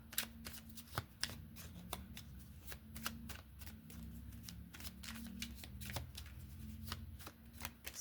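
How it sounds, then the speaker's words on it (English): Tarot cards being shuffled by hand with long nails in a steady run of crisp riffling snaps and soft flutters, close up, with no talking. "So far the shuffling with these nails has been okay."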